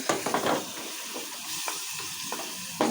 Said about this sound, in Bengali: এখন আমি এগুলোকে নেড়ে চেড়ে কষিয়ে নেব